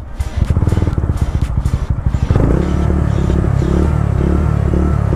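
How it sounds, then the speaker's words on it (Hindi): A TVS Ronin motorcycle, run with an almost empty fuel tank, cranks with a rapid rhythmic starter chatter for about two seconds, then the engine catches and settles into a loud, steady idle up close. "स्टार्ट तो हो रही है पर मतलब आप आवाज़ सुन रहे हो ना, देखो वो बंद हो जा रही है"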